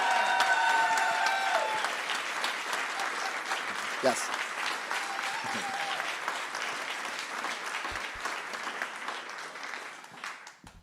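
Crowd applause at a Christmas benefit evening, sustained clapping and some cheering from a sizable audience that fades out near the end, with a short spoken word heard over it.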